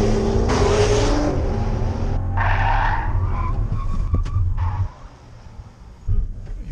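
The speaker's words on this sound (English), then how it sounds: "I'm going to go full throttle, and then we're just going to jump on the brakes" A 2017 Bentley Bentayga's engine revs at full throttle on a race track, then tires skid and squeal under hard ABS braking, the noise fading as the vehicle stops, close and loud.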